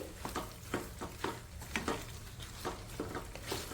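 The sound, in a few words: mixing spices into amla gooseberry pickle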